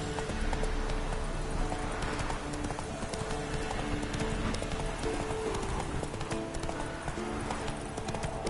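A horse gallops in The Witcher 3 with a steady, rapid clip-clop of hooves over a continuous game background, close and prominent.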